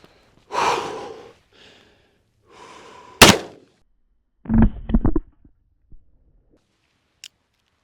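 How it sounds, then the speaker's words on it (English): A single sharp, loud blast from a Taurus M44 .44 Magnum revolver firing a 305-grain HSM bear load, framed by heavy breathing and exhales before it and a few soft thumps and rustles after. "And now we have the 305 grain HSM bear load."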